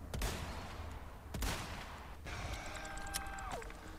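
Gunshots ring out in the Resident Evil 4 Remake as a player fires at a tentacle spawner: two sharp nearby shots a second apart, then a third, over a low, faint game background.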